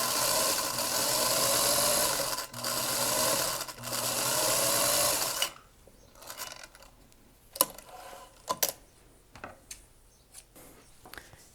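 A sewing machine stitches fabric at a steady, fast hum for about five seconds with a short pause, then stops, leaving scattered clicks and handling noises of the fabric and machine.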